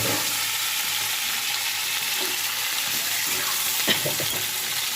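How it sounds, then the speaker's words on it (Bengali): Papaya pieces fry in hot refined oil, a dense, even sizzle with occasional soft stirring taps, close and alone without voices. "ভাজাটা রিফাইন তেলে ভাজছি"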